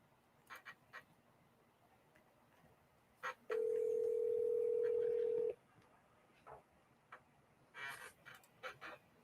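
A single telephone dial tone holds steady for about two seconds as a call connects, clear and alone amid faint clicks and quiet background sounds.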